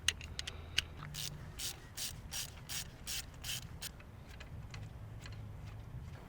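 Quick bursts of ratchet clicking come from a hand ratchet loosening spark plugs on an Abarth 500 engine, in short repeated strokes with pauses between, close up and fairly quiet.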